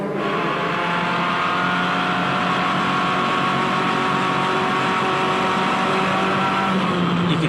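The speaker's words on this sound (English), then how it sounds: "You can hear there the Formula Ford is pretty much going as quick as it's going to go up and across the top of the hill" A Formula Ford race car engine holds a loud, steady high-pitched roar at full speed up and over a hilltop on the Phillip Island circuit. The sound is close and continuous, with no voices.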